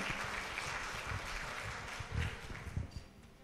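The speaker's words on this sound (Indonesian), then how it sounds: "kita boleh berikan tepuk tangan hadirin sekalian" At a national public relations convention in an auditorium, the audience gives a faint, distant-sounding applause, a steady wash of clapping with a few louder low thumps toward the end.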